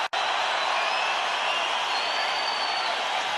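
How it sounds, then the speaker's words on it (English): Boxing arena crowd roaring as a fallen heavyweight tries to get back to his feet, a loud, sustained, unbroken roar that starts with a sharp cut and carries through. "And of course the crowd roar him on"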